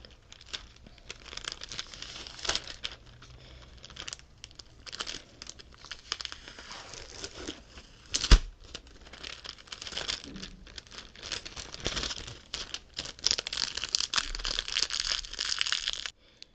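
Adhesive tape handled close up for ASMR, with continuous soft crinkling, rustling and occasional sticky tearing at varying loudness, and one brief louder thump midway.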